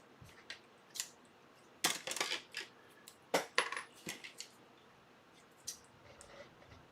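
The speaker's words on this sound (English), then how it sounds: "I found that a good quality pair of scissors works much better" Scissors snip through foam pieces in a run of short, crisp cuts, some isolated and some in quick clusters, close-up over a quiet background.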